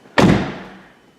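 A single loud door slam on a Saturn Aura XR sedan, a sharp close thud with a short fading tail, heard alone with no talk.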